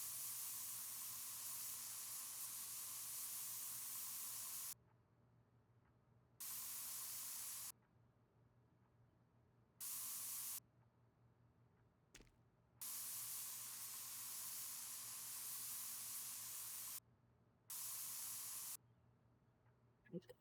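Spray painting in the video game Spray Paint Simulator: steady bursts of hissing aerosol spray, several long sprays lasting a few seconds each, separated by short silent pauses, loud and close with no talking.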